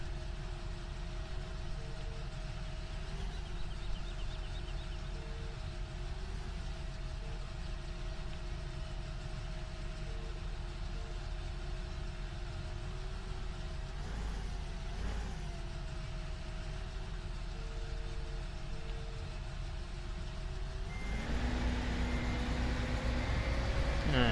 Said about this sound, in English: This tractor goes fast backwards too.